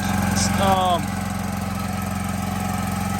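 A gas-powered roof cleaning pump engine runs steadily at close range, its loud, even mid-low drone continuing throughout, while a voice speaks briefly over it near the start.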